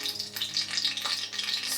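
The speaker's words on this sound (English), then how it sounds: "I am frying my saltfish and my anchovies" Saltfish and dried anchovies sizzle steadily in hot coconut oil in a home kitchen, a close, continuous crackling hiss with no talk.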